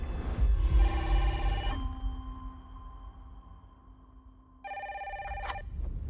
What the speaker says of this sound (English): the Springfield police get a phone call